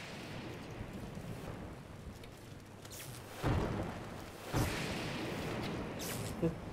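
Thunder rolls during a lightning storm in The Legend of Zelda: Breath of the Wild, with two heavy booming cracks and a smaller third rumble over steady wind and rain, while players talk quietly.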